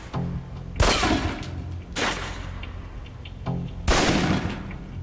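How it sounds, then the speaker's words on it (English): Pistol shots fired at a target in the video game Alpha Protocol: three sharp, loud shots spaced about a second or more apart, each with a ringing tail over a low background hum. "Equip the pistol, then aim down range and take some shots at the target."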